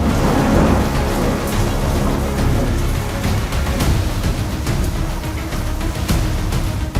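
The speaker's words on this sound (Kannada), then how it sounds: "ಬಿಟ್ಟು ಬಿಡದೆ ಮಳೆ ಸುರಿತಾ ಇದ್ದು" Heavy, relentless rain pours down outdoors in a loud, dense, continuous roar with a deep rumbling undertone that may be thunder.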